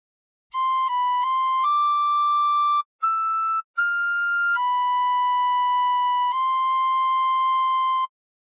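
A phrase of the hymn How Great Thou Art played on tin whistle: a string of clear sustained notes stepping up and down, with one brief gap, ending on two long held tones, played alone.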